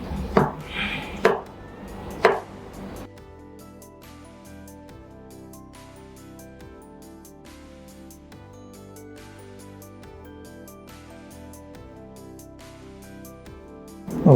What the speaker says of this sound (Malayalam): ഇതിന് ചെറിയ കഷ്ണങ്ങളാക്കണം.